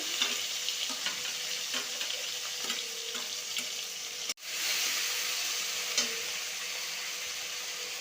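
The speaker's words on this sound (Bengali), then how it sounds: "পেঁয়াজ আর টমেটো দিয়ে ভালো করে কষিয়ে নিচ্ছে" Onions and tomatoes sauté in a pan with an even, moderately loud sizzle and light stirring taps, broken once by a brief dropout midway, with no voices.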